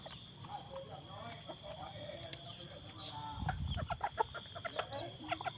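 Bantam chickens cluck softly at first, then grow busier and louder toward the end with rapid overlapping clucks nearby, with a brief low thump midway.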